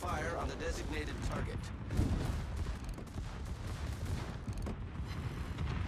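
Warship guns fire in a naval battle game, with heavy booming salvos and rumbling battle noise layered over a continuous background while people talk.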